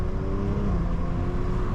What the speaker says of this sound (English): you can see it kind of holds the revs higher